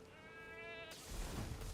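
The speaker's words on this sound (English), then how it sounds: "Wait, it makes the sheep noise?" A single sheep bleat from an Ash of War skill in the video game Elden Ring, a short wavering nasal cry followed by a loud burst of game effects.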